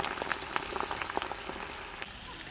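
Cauliflower pakoras and green chillies deep-frying in hot oil, a dense, close crackle of popping bubbles with irregular sharp pops throughout.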